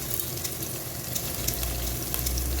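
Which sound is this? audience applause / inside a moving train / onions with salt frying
onions with salt frying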